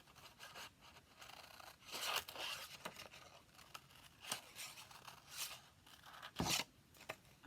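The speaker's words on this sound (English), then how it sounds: "you need to cut out all your shapes first before you do anything else" Scissors cutting out paper shapes for an art project, making soft, close snips and paper rustling at irregular intervals, faint and alone with no talk.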